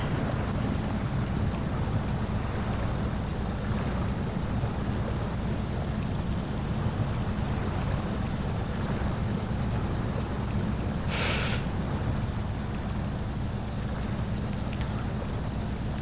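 A heavy Loadster 1700 "Rockbiter" mod truck in the SnowRunner game wades through water in low gear, giving a continuous churning rumble and sloshing wash that stays steady and fairly loud throughout, with no talking.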